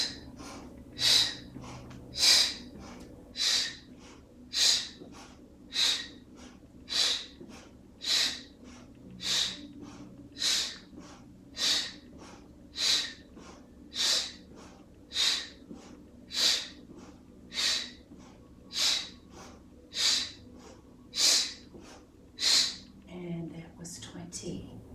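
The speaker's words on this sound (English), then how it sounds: "So breathing in and then breathing out." Slow, deep breaths during a standing yoga practice for the solar plexus, each inhale and exhale an airy rush in a steady, even rhythm, about fifteen cycles, close and clear over a quiet room.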